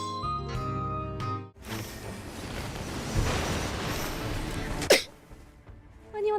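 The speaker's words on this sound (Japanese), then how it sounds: "やばい、くしゃみ出る、許して。" A single sharp, close sneeze breaks out during a gaming stream, following a stretch of game music and background noise and then dropping into quiet.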